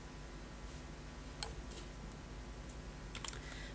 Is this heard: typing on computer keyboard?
yes